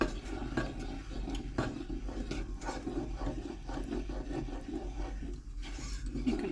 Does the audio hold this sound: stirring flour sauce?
yes